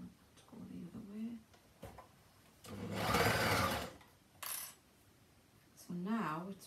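An overlocker sews a drawstring bag in short bursts, the loudest run lasting about a second midway, with brief quieter stitching elsewhere and someone talking between the bursts.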